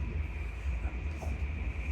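A moving train rumbles low and steady from inside a carriage with a faint high hum, a continuous close drone and no voices.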